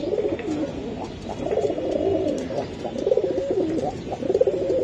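Giribaj pigeons coo in a steady, close, rolling series of low throaty calls, overlapping one another without a break, with no talk.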